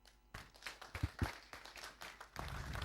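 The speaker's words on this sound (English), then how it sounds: "let's give him another round of applause" Scattered clapping from a small group starts unevenly with a few distinct claps, then thickens into fuller applause toward the end.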